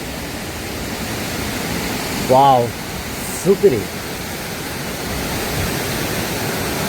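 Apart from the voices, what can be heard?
Makeli waterfall, Kalutara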